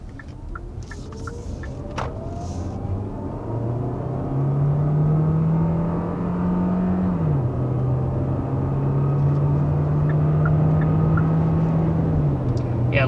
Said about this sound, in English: listen to just how quiet that engine is